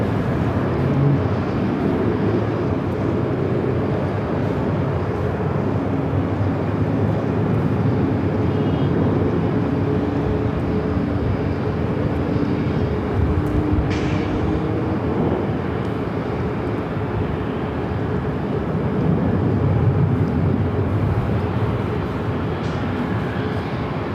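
A Southwest Boeing 737 MAX 8 bound for Sacramento takes off from runway 24 left at LAX, its engines giving a steady, rumbling roar that holds at a distance throughout.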